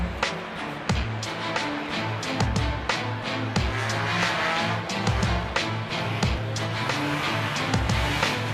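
Race cars starting the Jack Frost Enduro 150 on a cold, muddy track, with engines revving and roaring in repeated loud bursts, close and busy, with sharp transient knocks and clatter throughout.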